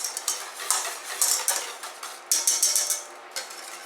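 A utensil mixes caramel pastry cream in a bowl, scraping and clinking against the side in quick, irregular bursts that are close and fairly crisp.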